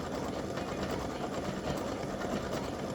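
A machine embroidering an appliqué design runs loud and steady, its rapid, even stitching chatter continuing without pause.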